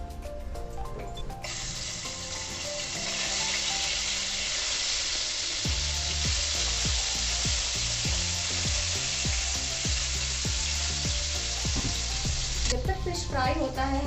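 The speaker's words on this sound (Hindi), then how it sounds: "कढ़ाई हो गई है गरम, इसमें अब मैं डालूंगी तेल टू फ्राई द फिश।" Fish fries in hot oil in a kadai, a loud steady sizzle running throughout, with stirring and utensil clatter breaking in rhythmically from the middle onward.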